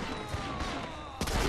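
Gunfire in the video game Medal of Honor: Rising Sun, a dense continuous battle din with a sharper louder shot near the end, no voices over it.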